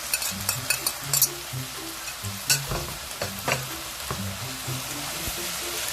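Pork in a spicy red pepper paste sauce sizzles in a hot pan while being stir-fried, with a constant crackling fry broken by irregular scraping and tapping of the utensil against the pan, heard up close.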